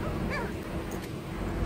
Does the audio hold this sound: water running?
no